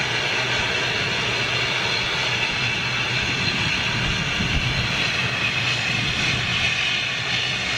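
A Q400 turboprop airliner landing at London City in a heavy crosswind, its engine drone a loud, steady roar with broad rumble and whine that holds evenly for about eight seconds without talking.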